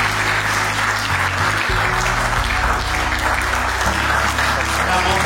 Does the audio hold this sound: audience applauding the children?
yes